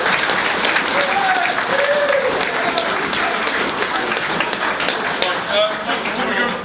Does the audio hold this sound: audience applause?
yes